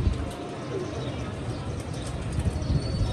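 Pigeons from a breeding pair coo softly amid a steady rustling background, with low murmurs throughout.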